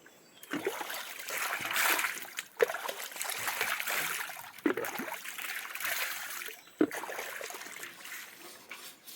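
Water poured and splashed in bursts at a village in Kokan, several separate pours each starting with a sharp splash then trailing into a trickle, close by with faint voices.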